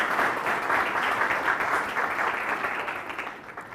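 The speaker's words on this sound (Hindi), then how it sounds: "तो इनका भी जोरदार तालियों से स्वागत कीजिए।" Loud, sustained audience applause welcoming a panelist at a higher-education panel discussion held at a convent school, with the clapping steady throughout and easing slightly toward the end.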